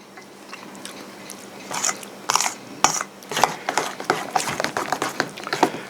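Crunchy bites and chewing on a crab cake piled onto Tostitos Scoops tortilla chips, seasoned with extra hot Old Bay, with several close, sharp crunches spaced irregularly and growing busier toward the end, no talking.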